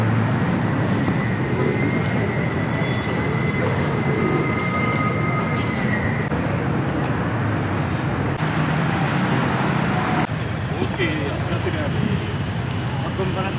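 A tram crosses outdoors near a Swiss village within sight of the Alps, its loud, continuous rumbling roll carrying a thin metallic squeal that fades partway through.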